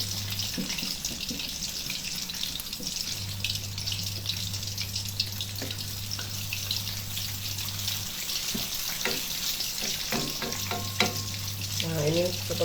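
Steady crackling and sizzling of tofu pempek (Palembang fish cakes) frying in hot oil, continuous and close, with a few clinks of utensils toward the end.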